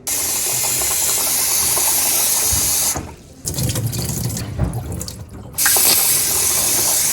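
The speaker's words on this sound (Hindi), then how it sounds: "इनको आपने सिंपली 3 दफा वॉश करके पानी से सोक कर देना है।" Running water pours steadily from a tap while basmati rice is rinsed for a chickpea pulao, with a quieter stretch of swishing and rattling grains in the middle before the full flow returns.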